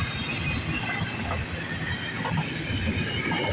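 A CN freight train rolls past at Scotch Block on a rainy day, a continuous close rumble with steady wheel and car noise throughout.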